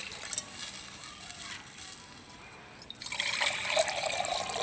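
Water is poured into a pot of rice for a festive Onam meal, a quiet trickle and splash that grows fuller toward the end.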